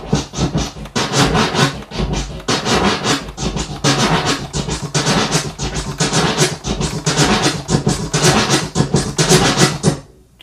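A loud, dense drum beat with punchy kick and a harsh, prominent snare hitting steadily over a busy, abrasive mix.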